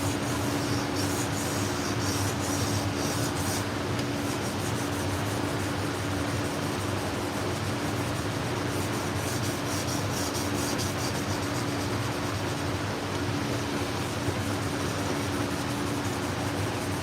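Pet grooming shears rubbed steadily across an abrasive grit surface, a continuous close, loud rasping scrape with no pauses and no speech.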